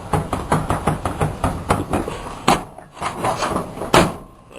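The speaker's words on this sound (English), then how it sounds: "How's that door close?" The door of an old four-wheel-drive Chevrolet S10 pickup truck, one that does not shut well, is worked repeatedly, giving a rapid series of close, hollow clunks and thuds with a few louder bangs toward the end.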